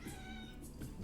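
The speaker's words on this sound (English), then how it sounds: "That is my cat. Please ignore." A house cat gives a short, faint meow indoors, heard on its own with no talking.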